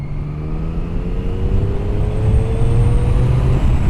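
A 2013 Triumph Daytona 675 motorcycle engine pulling a roll-on from 30 to 60 mph in sixth gear, a loud close steady drone that rises gradually in pitch as it accelerates, with wind noise and no talk.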